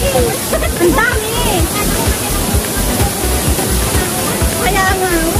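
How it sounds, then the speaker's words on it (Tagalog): Tsuen Wan waterfall rushing steadily and loudly nearby, a dense continuous roar with voices of a crowd talking over it. "Ito pala yung waterfalls."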